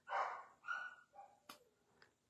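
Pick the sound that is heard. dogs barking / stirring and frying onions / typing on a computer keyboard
dogs barking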